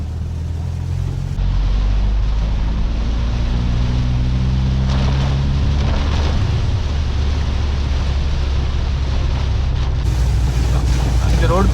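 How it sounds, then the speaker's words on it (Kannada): Heavy monsoon rain while driving a 25-year-old Honda City VTEC: a loud, continuous wash of rain and road spray around the moving car, with low engine drone and a brief change in tone midway. "ಇವತ್ತು ಗಾಡಿ ತೆಗ್ದವತ್ತೆ ಮಳೆ ಜೋರಾಗಿ ಬರ್ತಿದೆ"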